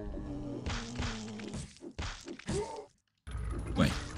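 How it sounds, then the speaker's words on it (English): A grenade blast in Quake strikes the player, heard as a few heavy thuds and whacks with groaning game sounds, then a brief silence and a final thump. "As I just get immediately grenaded in the face."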